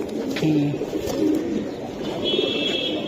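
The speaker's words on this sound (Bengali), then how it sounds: "এটা সাবচিলা লাইনের কবুতর ভাই, একবারে পুরানো জাতের কবুতর।" Pigeons of an old Sabchila-line breed coo in low, throaty phrases against steady background noise and a faint higher chirp, close by and moderately loud.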